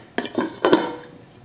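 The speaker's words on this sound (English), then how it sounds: "Now that my pepperoncinis are mixed in, I'll place the lid on top." A lid set onto a crock pot full of beef chili with pepperoncinis makes a few sharp ceramic and metal clinks and rattles in quick succession before settling, close and alone.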